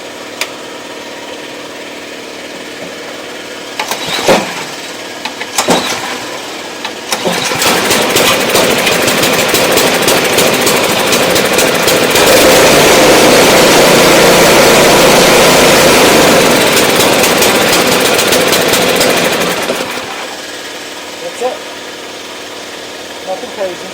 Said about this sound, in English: We have to start the machine, let it run for 5 seconds.